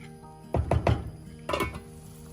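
Metal utensil clinks and scrapes against a pot of achar chicken gravy as it cooks on a slow flame: three quick knocks in a row, a pause, then another scraping clatter, close and fairly clear with no talking.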